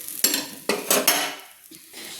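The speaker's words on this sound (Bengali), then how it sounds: "আমি কিন্তু প্রত্যেকটা বড়া কিন্তু আমি উল্টে নিচ্ছি।" Prawn-head fritters being flipped in mustard oil in a pan, with a few sharp metallic clinks and scrapes of a utensil against the pan and a faint sizzle in between.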